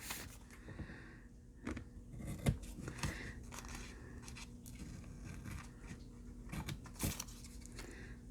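Scissors snip through paper for a mixed-media collage, a close, quiet series of irregular crisp cuts with small rustles of paper between them.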